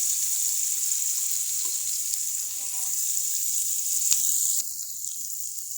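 Onions sizzle and fry in a hot pan, giving a steady bright hiss with occasional stirring clinks; the sizzle is close and constant and drops slightly near the end.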